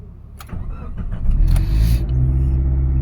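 A Mitsubishi Colt Plus engine cranks briefly and fires, catching into a steady, loud idle rumble that holds through the rest of the short stretch after a newly installed ECU.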